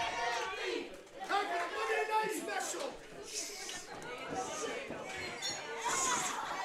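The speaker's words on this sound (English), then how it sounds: "The crowd calls for a KLD rally." A wrestling crowd at a 2-out-of-3 falls match chants and roars for a rally, a dense, sustained wall of voices rising and swelling throughout with a commentator talking over it.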